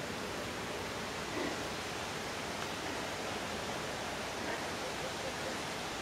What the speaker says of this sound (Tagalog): Naririnig ko po yung lagaslas ng ilog mula rito